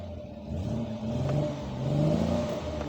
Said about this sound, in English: You like the exhaust blips?